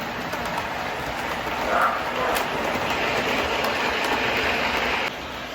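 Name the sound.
model train running on track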